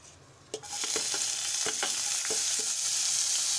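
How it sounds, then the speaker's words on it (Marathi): Finely chopped onion hits hot oil in a kadai with a sudden loud sizzle that holds steady, punctuated by light scraping and stirring taps. "कांदा घालत आहे, बारीक चिरून घेतलेला"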